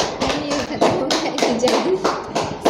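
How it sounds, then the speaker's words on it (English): An audience clapping at a school English debate on phone advantages and disadvantages, brisk applause of many hands close by, with some voices mixed in. "So clap for both of them."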